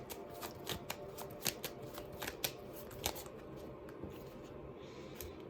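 Tarot cards being shuffled, a steady run of soft riffling flutters and crisp snaps close by, with no talking.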